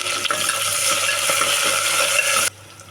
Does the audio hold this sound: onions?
yes